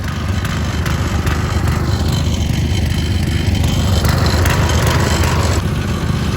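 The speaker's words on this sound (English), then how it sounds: "So I just idled it down a little bit and I've got it in low range first gear." Tractor engine idling in low range first gear with a 3-point hitch tiller attached, a loud steady rumbling drone with a churning mechanical texture throughout.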